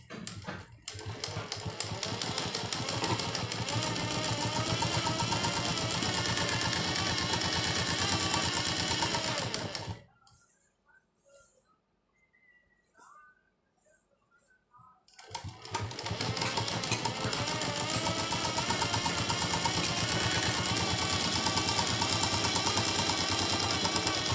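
Sewing machine stitching cloth for a kashehra wedding headdress: a loud, rapid, steady mechanical whirr that stops for about five seconds, then starts again at full pace.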